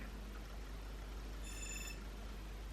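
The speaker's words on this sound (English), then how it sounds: "That's my alarm that I press snooze on." A brief electronic phone alarm chirps once for about half a second, faint against a steady low hiss.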